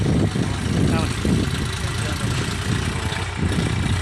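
A tractor engine idles with a steady low rumble and rough knocking throb, close and continuous throughout.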